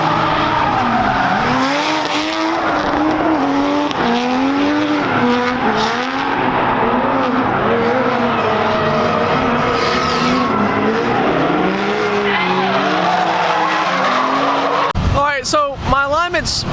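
A drift car skids with loud, continuous tire squeal and engine roar, pitch swooping up and down as it slides, then a sharp burst of higher squeals near the end.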